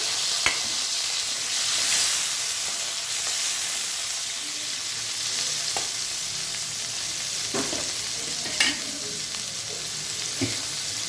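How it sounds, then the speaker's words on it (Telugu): Thinly chopped tomato pieces fry in hot oil in a pan, giving a continuous bright sizzle with a few sharp pops and crackles scattered throughout, and no talking. "అదే ఆయిల్లో టమాటాలు కూడా 2 మనం వేసుకుంటున్నామండి."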